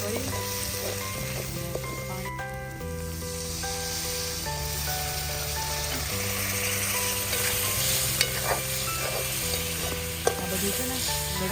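Vegetables with cumin powder and salt being stirred in a sizzling pan for a Gujarati whole-garlic curry, a steady fry hiss with scraping spoon strokes throughout, while faint music plays in the background.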